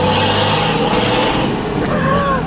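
A turbocharged 2H diesel in a 60-series Toyota Land Cruiser runs steadily and loudly close by, with a dense, continuous engine drone and no voices over it.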